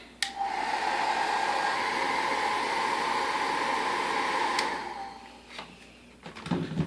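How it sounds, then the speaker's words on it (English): A heat tool drying Distress paint on a card gives a loud, steady blowing whoosh for about four and a half seconds, then cuts off, followed by a few faint handling noises. "I'm going to heat dry it real quick so it's quick."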